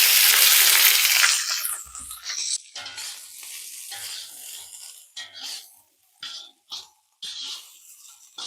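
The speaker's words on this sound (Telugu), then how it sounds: "గోబీ వేసుకుందాం. ఇప్పుడు మంచిగా ఫ్రై చేసుకుందాం వీటిని." Cauliflower florets for gobi fried rice sizzle loudly in a hot pan at first, then the frying settles into quieter crackling broken by short bursts of stirring and clattering, with no voices.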